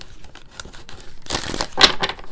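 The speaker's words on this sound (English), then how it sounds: "Let me get a good shuffle because we had that other deck here." A deck of tarot cards being shuffled by hand, soft papery riffles and crinkly flicks close up, building to a brisker burst of shuffling near the end, with no talking.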